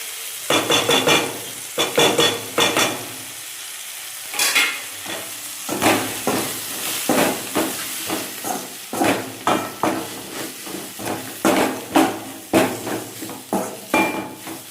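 A curry base for a small-potato kuzhambu being sautéed and stirred in a pan: a spoon repeatedly scrapes and clinks against the metal over a steady background sizzle, in loud, irregular strokes close by with no talking.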